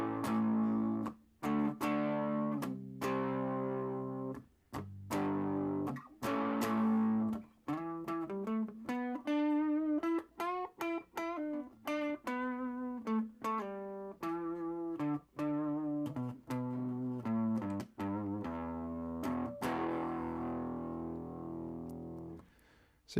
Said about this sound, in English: So you get a nice kind of whoopy little overdrive.